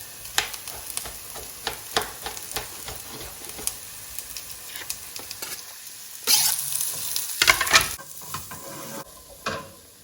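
Onions and tomatoes frying and sizzling in a pan for a carrot courgette masala dal, with steady sizzle and repeated stirring scrapes, and a louder burst of sizzling as more goes in near the end.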